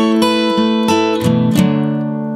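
Guitar picks the well-known opening melody of a song, a quick run of bright, ringing plucked notes played close and loud with no voices.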